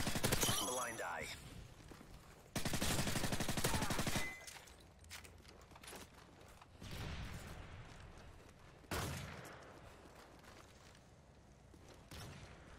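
Sniper rifle fired during a jump shot in a video game, sharp loud gunfire bursts punctuating game noise, with a dense rapid stretch early and another sharp report later, quieter effects between.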